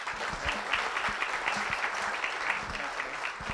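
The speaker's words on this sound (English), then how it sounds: "Let's give them a round of applause." A room of people at a city proclamation ceremony breaks into a round of applause, dense clapping that holds steady for a few seconds, close and loud.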